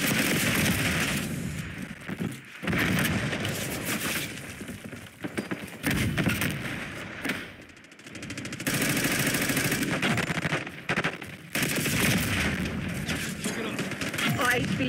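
Constant automatic gunfire and explosions from a Call of Duty: Black Ops 6 multiplayer match, loud and dense throughout, with short lulls and announcer voice lines over the shooting.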